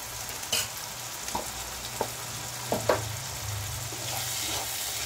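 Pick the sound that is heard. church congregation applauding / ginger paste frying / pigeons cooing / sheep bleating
ginger paste frying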